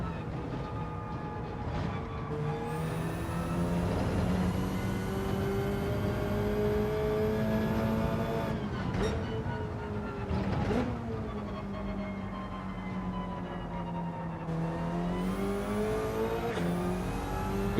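A race car engine drones continuously in a racing video game, held at steady revs with several sharp throttle lifts and gear-change dips, loud and close throughout.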